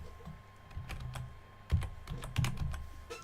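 Keys on a computer keyboard clatter in a short, uneven burst of typing, close and moderately quiet, with a few firmer keystrokes standing out over a light background hum.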